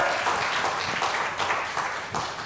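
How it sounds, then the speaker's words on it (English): A crowd claps and applauds continuously, a dense wash of hand claps that swells slightly and then eases off. "A big round of applause for"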